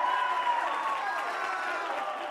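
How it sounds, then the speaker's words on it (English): A round of applause crowds the whole stretch, steady clapping and light cheering from an audience, loud and continuous without a break. "We'll input a round of applause in here for you."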